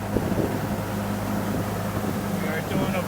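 1957 Austin Champ cruising in fifth gear at about 25 to 30 miles an hour, a steady low engine drone with wind rush from inside the vehicle.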